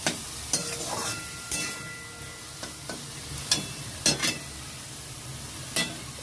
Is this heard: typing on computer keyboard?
no